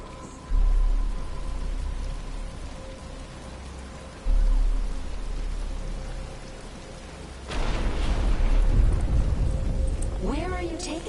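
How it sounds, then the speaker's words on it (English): Rain in the video game Batman Arkham Asylum, a steady hiss of falling rain under a low hum that swells louder and denser toward the end, with faint voices partly heard beneath. "But it's starting to rain."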